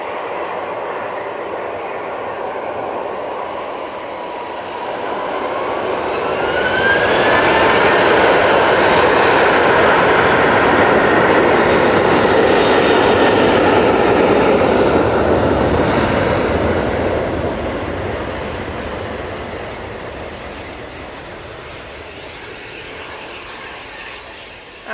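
A TUI airliner at Manchester Airport spools its engines up for takeoff: a rising whine climbs in pitch over a swelling roar, peaks loud and sustained, then slowly recedes into a fading rumble, with no talk.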